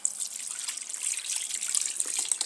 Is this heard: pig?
no